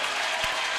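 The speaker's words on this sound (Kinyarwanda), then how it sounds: "dukomere Yesu amashyi menshi" A brief, steady burst of church congregation applause at a Kinyarwanda worship service, dense and even clapping with one slightly sharper knock partway through.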